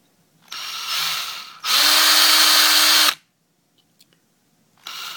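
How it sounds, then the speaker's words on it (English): A power drill whirs in two bursts as a 3/64 bit cleans out the flash hole of Berdan-primed cartridge brass, the second louder and steadier, followed by quiet with faint small clicks and a brief restart at the end. "So what I do is I take a 3/64 drill bit."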